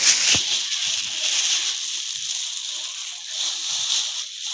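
Water sloshes and splashes steadily as raw chicken is rinsed and rubbed by hand, with a sharp knock near the start and no talking.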